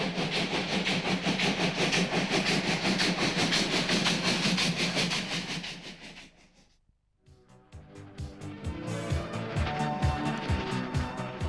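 Giant steam locomotives labour up a mountain railway line, a loud rapid chuffing exhaust beat that briefly fades to near silence before slower heavy chuffs and clanking return close by.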